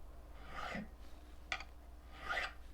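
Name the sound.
filing the edges of guitar frets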